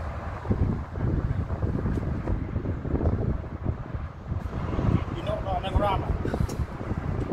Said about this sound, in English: Lovely and windy up here today.